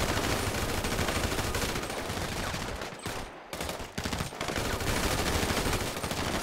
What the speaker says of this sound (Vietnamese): Bắn vô cái họng của mày nè.